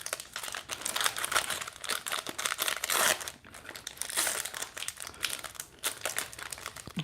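Foil wrappers on 1992-93 NHL Parkhurst Series 2 hockey card packs crinkle and tear open close up, a steady loud rustling with sharper ripping bursts and no talking.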